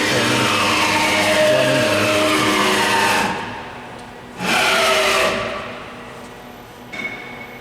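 Belmont SY-1210TGUR CNC high-speed EDM drill on a dry run, giving a loud steady machine whir for about three seconds, a quieter pause, another whirring burst, then a brief clatter near the end.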